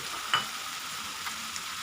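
Onion fries in hot oil for a Bicol Express after the coconut milk has reduced, giving a brief, even, close hiss with one small clink of a utensil near the start.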